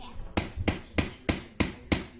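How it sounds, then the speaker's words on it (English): A child strikes with a hammer in sharp, regular blows, about six evenly spaced knocks close by with faint ringing between them. "Can you show me all the things the hammer can do?"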